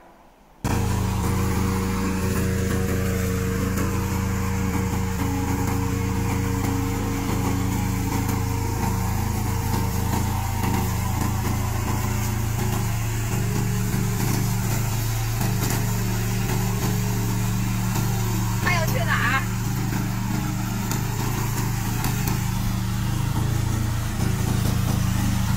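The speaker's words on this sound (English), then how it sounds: "We are a remote control mower factory, and this is our slope mower." A remote control slope lawn mower robot runs steadily after a quiet start, a constant mid-pitched engine hum with a faint brief higher whine midway, heard alone without talk.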